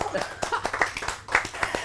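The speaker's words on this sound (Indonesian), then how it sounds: "Kasih tepuk tangan dulu" Hands clap in an irregular burst among a small group on an Indonesian chat show, close and fairly loud, with voices talking and laughing over the claps.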